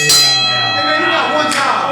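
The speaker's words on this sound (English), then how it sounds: "Ring the bell." A wrestling ring bell is struck once and rings out loud and bright, its metallic tone slowly decaying, with a fainter second clang near the end.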